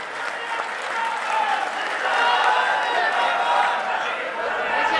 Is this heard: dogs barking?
no